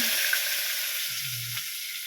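Garlic and onion frying in a pan, a steady close hiss and sizzle that holds throughout, with a faint low stirring rumble partway through.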